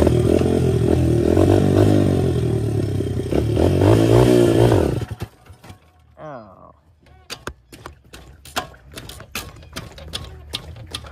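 A CRF100 dirt bike rides through a field, its engine droning loudly and unevenly for the first few seconds, then dropping away to scattered clicks, rattles and faint mechanical noises, with someone talking over it.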